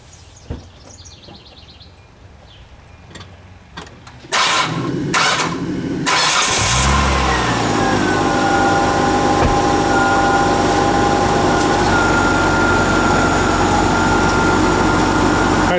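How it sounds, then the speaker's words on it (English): Hyundai Santa Fe engine cranking in several short bursts, then catching and starting, settling into a steady idle close by after a fresh alternator change, with faint birdsong underneath. "I'm just going to crank it a couple of times just to make sure, give a full rotation on the belt."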